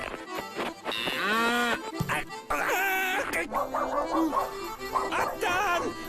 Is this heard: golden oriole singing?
no